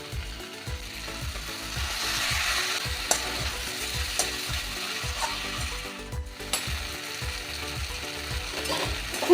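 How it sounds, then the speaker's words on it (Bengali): Okra and potatoes stir-frying with spices in a pan, a steady sizzle broken by repeated rhythmic scraping strokes of a spatula, close and continuous with no voices. "এই ঢ্যাঁড়স আলু ভাজাটা। মশলার সাথে ভালো করে কষে নেব।"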